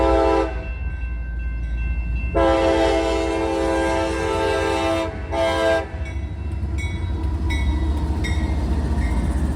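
CSX freight train heading west, with a loud, constant rumble of rolling cars and a long, blaring multi-tone horn that sounds in several blasts, the last ones short, over the steady roar of the passing train.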